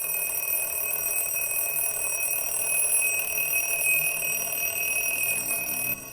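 A loud electronic alarm clock rings steadily and alone in a film scene, a continuous high piercing tone that cuts off abruptly near the end.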